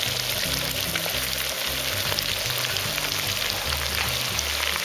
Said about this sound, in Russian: Мясо у нас начало подрумяниваться.